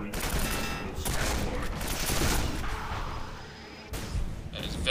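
Powerful shoulder-mounted slug weapon firing in Quake 4, a sustained loud burst of heavy blasts and rumbling impacts filling the scene, with a brief dip before the barrage resumes.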